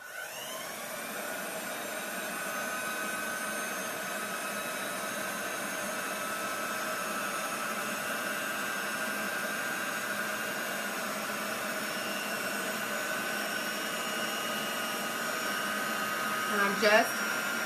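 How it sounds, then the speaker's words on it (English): A heat gun blows hot air to set ink on a tin mug, a steady, loud whoosh running continuously with a faint electric whine, ending in a brief clatter near the close. "now I'm going to take my heat gun and I'm going to zap it real quick"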